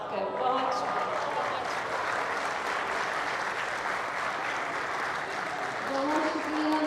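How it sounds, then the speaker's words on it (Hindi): Sustained applause from a mushaira poetry audience fills the space, steady and fairly loud, swelling slightly near the end. "भरपूर तालियां होनी चाहिए ऑडियंस वाली तालियां"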